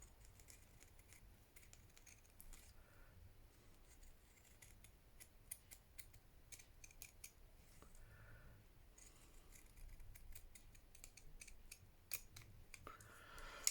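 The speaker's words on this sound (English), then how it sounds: "I'm going to use my pinking shears for this because it will help stop it fraying. I'm going to cut on that black line." Pinking shears cut through recycled fabric in a quiet room, a run of close, crisp snipping and crunching strokes in uneven rhythm, growing a little louder toward the end.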